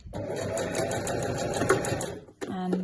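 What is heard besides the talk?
sewing machine sewing down an edge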